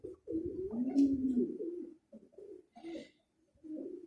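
Pigeons coo in a loft, a close series of low, throaty, rolling calls with short pauses between phrases, fairly quiet and with no talk over them.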